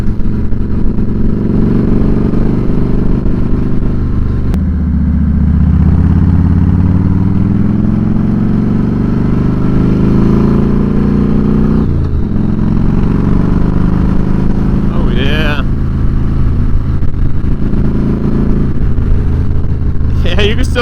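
A Harley-Davidson Fat Boy styled like a Road King rumbles steadily while being ridden, its engine note rising and falling with throttle under wind noise, while a rider talks over it.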